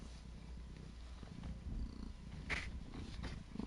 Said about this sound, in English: I don't know if you guys can hear her purring.